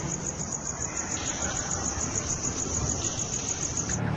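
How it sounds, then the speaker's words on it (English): Crickets chirping at night, a steady, high-pitched continuous trill that holds evenly throughout and stops abruptly near the end, with no voices. "with the noise of the crickets, we remove the crickets, we remove the voice"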